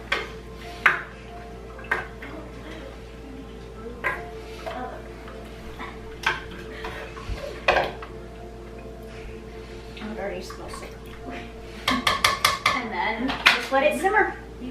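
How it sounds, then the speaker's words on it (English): A ladle stirs homemade wassail in a pot, giving scattered metallic clinks and scrapes against the pot, with a quick cluster of rapid taps near the end; light talk and room noise sit in between. "Give it a good stir."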